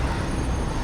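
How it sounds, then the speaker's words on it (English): An 8-car freight train in Satisfactory rolls in with a steady, loud rail rumble and wheel noise that holds evenly throughout, with no one speaking. "So whenever that train decides it wants to get here"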